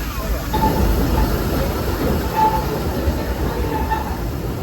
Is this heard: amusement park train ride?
yes